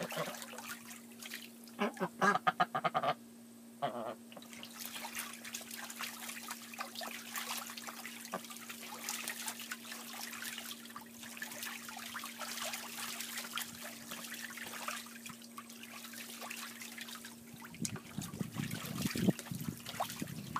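Ducks splashing and bathing in a small water tub, with close trickling and dribbling water, bursts of flapping splashes and occasional soft quacks under a steady background hum.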